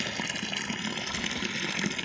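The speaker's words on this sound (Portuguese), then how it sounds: "Essa aqui é a mangueira d'água que está mandando aí." Water gushes steadily from the outlet hose of a hydraulic ram pump at a farm in São Paulo state, a constant close splashing rush.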